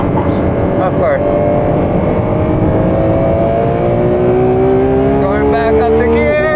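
A Ferrari race car at a speedway, its engine rising in pitch loudly and continuously as it shifts up through the gears, with brief dips at each change and some talk alongside.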